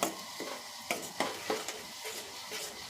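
Turmeric being stirred into hot oil for a fresh gunda pickle, giving a soft continuous sizzle with a few light scraping knocks of a spoon against the pan, close and fairly quiet.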